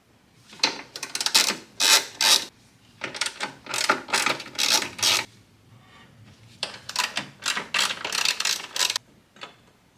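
A ratchet wrench loosens three 10mm bolts on a bracket beside the motor mount of a 2007 Toyota Highlander Hybrid, giving close, repeated bursts of rapid clicking separated by short pauses, with no talking.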